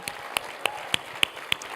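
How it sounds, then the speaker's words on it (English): A few sharp, evenly spaced claps ring out at a Grady Salutes ceremony, about six distinct hand strikes over faint background noise. "Can I get a round of applause for that, everybody?"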